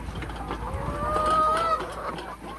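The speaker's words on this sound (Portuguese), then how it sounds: "Essas galinhas." Cream-colored laying hens cluck and murmur in a coop, a drawn-out tonal call rising over a dense, noisy background of scratching and bird chatter, moderately close.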